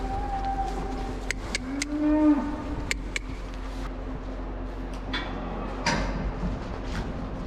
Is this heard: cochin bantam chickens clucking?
no